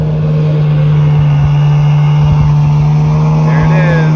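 A sailboat motoring under engine power away from South Manitou Island gives a loud, steady low engine drone with a constant hum and wind rush throughout.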